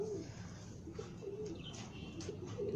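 Soft coos from pigeons wet in the rain repeat several times, low and throaty, over a quiet hissing background with faint chirps.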